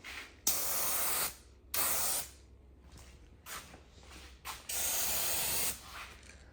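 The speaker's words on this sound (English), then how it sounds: "Let's do some painting." A spray paint can hisses onto a vehicle bumper in three long bursts with shorter spurts between, close and loud in a quiet space, the nozzle sputtering slightly as if the tip is clogged.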